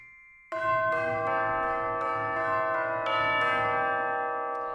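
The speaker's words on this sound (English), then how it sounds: "Tubular bells." Sampled tubular bells in an orchestral template in Studio One, several loud, resonant metallic strikes with long overlapping sustain, ringing alone without talk.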